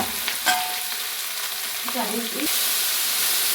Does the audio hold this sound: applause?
no